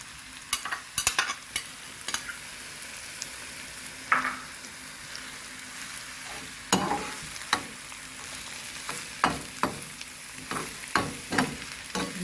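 Carrots and other vegetables sauté in a pan for Jamaican-style escovith fish: a soft background sizzle broken by repeated sharp clacks and scrapes of stirring, irregular and close.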